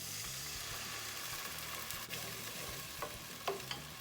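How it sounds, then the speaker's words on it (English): Onions and garlic browning in a pan with a splash of white wine reducing, a soft steady sizzle with a few light utensil scrapes near the end, fairly quiet. "We're going to let this continue to cook until almost all of the wine is gone."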